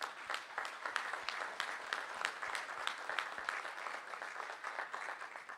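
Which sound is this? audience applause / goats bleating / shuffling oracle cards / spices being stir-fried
audience applause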